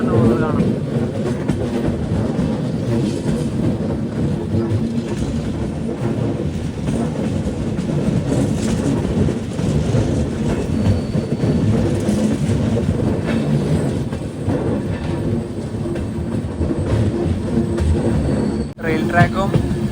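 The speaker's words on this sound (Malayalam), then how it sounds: "WP4 ഇപ്പോൾ നിലവിൽ ട്രെയിനിൻ്റെ ലോക്കോമോട്ടീവ്." Ernakulam–Velankanni weekly express hauled by a WP4 locomotive, heard from inside a sleeper coach as a continuous loud rumble with rhythmic wheel clatter on the rails, and voices talking throughout.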